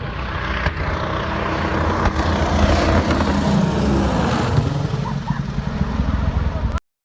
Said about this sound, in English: This Convair 340 suffered an engine failure just moments after takeoff during a flight trial in Pretoria.